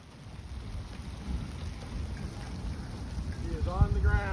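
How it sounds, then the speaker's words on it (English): Wind and rain roar as a tornado approaches, a dense rushing wash that builds over a few seconds, with a voice speaking briefly near the end. "Here comes the wind."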